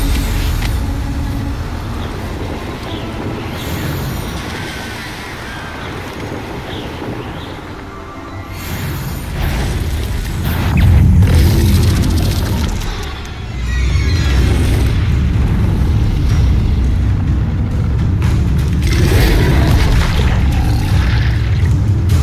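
Spell blasts from the Hogwarts Legacy video game, fire and explosive curses going off as a dense run of loud booming bursts over a heavy low rumble through the whole stretch, with no talking.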